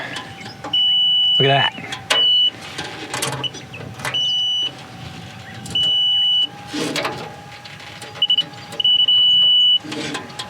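A high electronic tone from an electrical tester beeps repeatedly in short and longer bursts while a person talks and handles things nearby, checking solar panel frame wiring.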